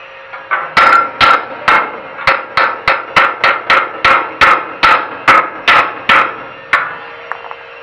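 A hammer strikes repeatedly on a construction site where a carpenter works with steel and wood, about fifteen sharp, loud blows in a fairly regular rhythm with no talking.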